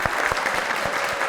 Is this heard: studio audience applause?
yes